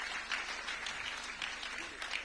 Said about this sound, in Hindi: चाहूंगा एक बार जोरदार तालियां हमारे पैनलिस्ट के लिए।